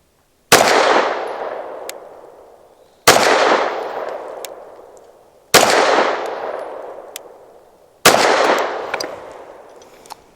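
Four loud, evenly spaced gunshots from a Bersa M2XI pistol firing Winchester ammunition, each a sharp crack followed by a long ringing decay before the next.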